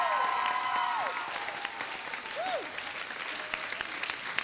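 An audience applauds the dance teachers at a high school variety show, with dense, sustained clapping from a crowd that gradually thins and softens. A few gliding electronic tones sound over it.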